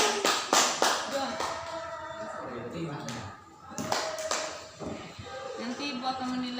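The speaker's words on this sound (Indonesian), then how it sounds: "Tepuk tangan untuk teman kalian yang sudah mendapatkan" A classroom of students claps for their classmates, with scattered, uneven hand claps that thin out midway and then pick up again, and voices mixed in.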